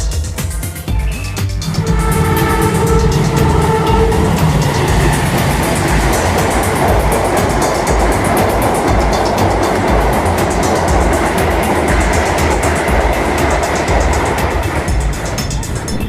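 A KRL commuter train rolling toward Prambanan station, heard from inside as a loud, steady rumble and rush with brief tonal squeals near the start.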